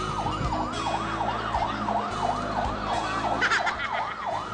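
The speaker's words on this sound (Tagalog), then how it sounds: "Nililipsync yung sirena." A wailing siren rises and falls in steady, repeating sweeps, loud and continuous, with a faint rumble of traffic underneath.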